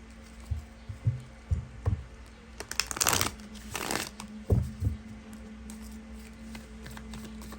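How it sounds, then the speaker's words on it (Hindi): Tarot cards are shuffled and handled up close, with a series of soft taps, riffles and slides, a brief louder flurry of shuffling near the middle, then quieter handling; no one speaks. "2 कार्ड्स यहाँ से लूँगी मैं आपके लिए।"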